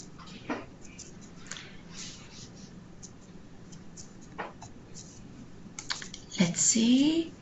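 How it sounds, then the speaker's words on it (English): Typing on a computer keyboard comes through as scattered light clicks and taps at a moderate distance, followed by a brief murmur of background talk near the end. "I can see a gentleman typing."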